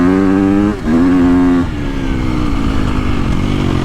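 A 2022.5 KTM 250SXF Factory Edition dirt bike engine revs loudly and close, its buzzing four-stroke note rising and dropping as the rider accelerates and shifts.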